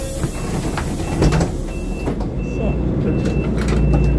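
A bus pulls up outdoors amid loud continuous engine rumble and traffic noise, with repeated high reversing beeps cutting through steadily.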